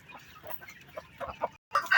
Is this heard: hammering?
no